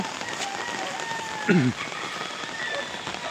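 Steady rain patters on a surface in a dense, even hiss, with a brief low voice-like sound rising over it once.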